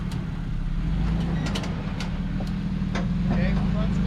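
An off-road vehicle creeps forward on John Bull Trail near Big Bear, California, its engine a steady low rumble with faint knocks and rattles, a voice talking over it.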